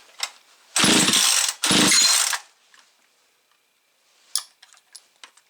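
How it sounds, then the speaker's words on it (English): Husqvarna 365 chainsaw with a base gasket delete being pulled to start: two long, loud pull-cord rasps that fail to catch, followed by a few lighter clicks and knocks, close with no talk. "See if we got fire."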